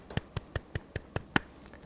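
Sparse clapping at a church evangelism camp gathering: about seven evenly spaced, crisp claps from one or a few people in a quiet room, with no crowd behind them.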